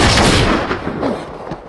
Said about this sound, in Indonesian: terjadi baku tembak antara Link dan semua anggota gangster